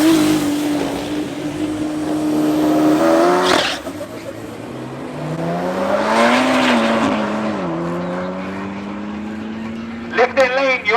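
Drag race cars, including an Audi S3, launching and accelerating down the strip at a club event at Tarlton International Raceway, engines rising in pitch through gear changes with tire noise, fairly loud under an announcer's commentary.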